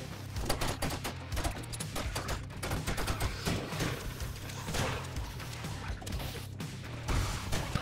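Pipe bombs going off in 7 Days to Die, a rapid string of sharp blasts and crashes over a low rumbling bed of game noise, loud and close throughout.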